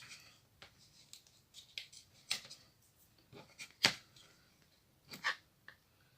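Scissors snip through dried craft material, a series of short, crisp cuts at an uneven pace, fairly close and quiet, with no talking.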